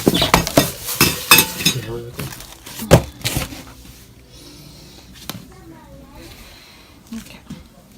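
Plastic bird cage feeding dishes are handled and knocked together in a quick series of clattering clinks, with people talking over the handling.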